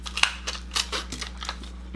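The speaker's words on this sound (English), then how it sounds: "But we just got the scissors" Scissors snip a sauce packet open at a table, giving a few short sharp cuts over a steady low hum, with no one speaking.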